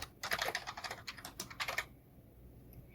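Rapid clicks from a computer keyboard come in two quick bursts as code is typed, close and crisp, then stop into near silence.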